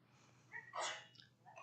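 A single sneeze bursts out in a quiet school board meeting room, fairly close and moderately loud, with soft room hum before and after.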